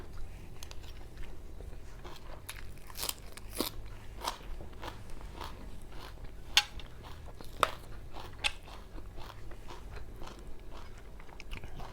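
Someone bites and chews fresh, raw, uncooked vegetables such as long beans, producing close, repeated crisp crunches in an irregular rhythm, with no talk.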